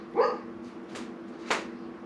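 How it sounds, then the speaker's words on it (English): Dogs bark in short separate bursts nearby while fish tacos are being prepared: one sharp bark near the start, a softer one in the middle and another toward the end, over a faint steady hum. "sorry if you can hear the dogs are loud"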